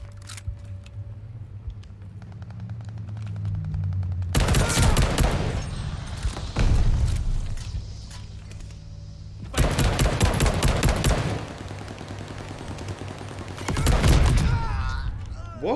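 Bursts of rifle and automatic gunfire in the shooter game Call of Duty Vanguard arrive in three loud volleys separated by quieter stretches of game ambience, with single shots and rapid crackle.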